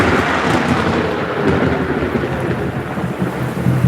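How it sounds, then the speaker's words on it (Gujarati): Thunder rolls and cracks through heavy rain, a dense, loud rumbling wash of rainfall with deep booms swelling over it, and no one speaks. "વીજળીને કડાકા તો પડાકા ઢળેક ઢળેક ઢળેક થાય છે"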